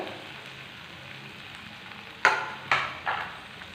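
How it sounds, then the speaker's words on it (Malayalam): Onions sautéing on a low flame for a tomato and papad curry, a soft continuous sizzle, followed near the end by three sharper bursts of stirring or scraping in the pan. "ലോ ഫ്ലെയിമിൽ വെച്ചിട്ട് നമുക്കിതൊന്ന് വഴറ്റിയെടുക്കണം."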